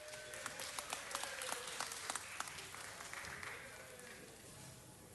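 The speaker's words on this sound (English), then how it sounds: "Let's give them a round of applause" A round of applause from the audience at a city council meeting, quiet and distant, thinning out and fading toward the end.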